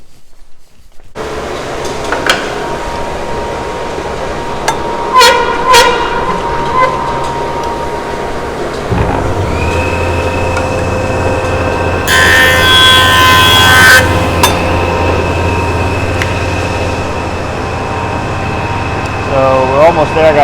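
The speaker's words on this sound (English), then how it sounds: "I'll get the dust collector on, make a few cuts" Jointer planing wood in a workshop while a dust collector runs, a steady broadband roar and hum continuing throughout with a brief sharper burst of cutting near the middle.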